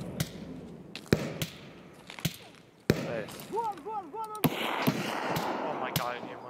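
Gunfire in Escape from Tarkov during a fight with scavs at a checkpoint near green room, sharp cracking shots at irregular intervals, some loud and close, mixed with players talking over voice chat.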